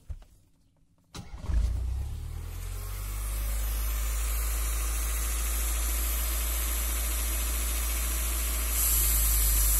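A Toyota 4A-GE engine sits at idle while its intake air control valve is adjusted. After a near-silent second it fires into a steady, close hum with a faint hiss, and the idle tone shifts slightly near the end.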